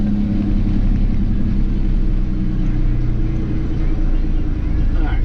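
A Peterbilt 359 truck's engine rumbles steadily close by as light throttle is applied during a gear shift, a continuous low drone with someone talking over it.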